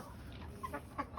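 A sturdy rooster gives a few soft, short clucks in quick succession, faint and close, over a low background murmur.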